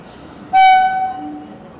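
A train in India sounds a loud horn blast lasting about half a second, then a fainter tone and rolling rumble as it passes nearby.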